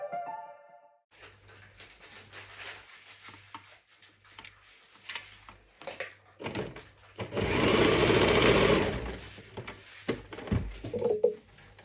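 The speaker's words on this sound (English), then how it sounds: "So we sew half an inch round the circle of bonnet." A sewing machine stitches a half-inch seam around the circle of a reversible satin bonnet, running in short bursts with a longer, louder steady run near the middle and quiet pauses between.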